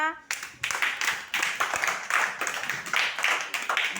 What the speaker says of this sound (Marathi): चला प्रगतीसाठी टाळ्या वाजवा